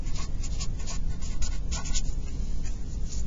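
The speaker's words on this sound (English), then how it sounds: "I just realized I forgot to write the word ribosome." A pen scratches a word by hand onto a cell organelle flash card, with quick, dense strokes close to the microphone running steadily over a constant low background hum.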